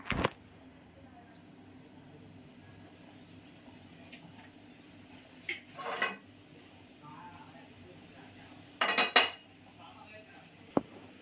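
Metal clanks as a griddle pan is set on a stove, a sharp hit at the start and louder scraping clatters later, over a quiet background.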